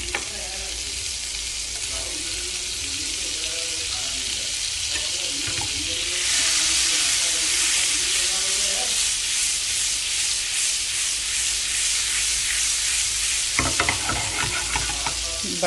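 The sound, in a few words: butter sizzling in a pan for tadka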